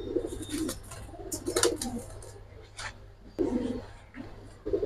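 A pair of double-barred pigeons, male and female, coo in low, soft repeated bursts close by, with faint higher chirps and light background noise between calls.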